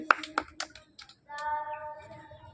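Several sharp claps ring out early on, a few quick hand strikes in a row, followed by a sustained tonal hum or whistle-like sound at moderate loudness.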